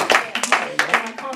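A few hands clap irregularly in a small gathering, with sharp close claps mixed with voices speaking over them.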